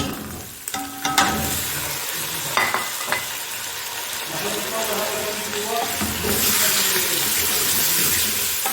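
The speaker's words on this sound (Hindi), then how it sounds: "अब डालेंगे चिकन।" Chicken hits the pot for a biryani, setting off a loud, spreading sizzle with clatter and stirring that settles into steady frying.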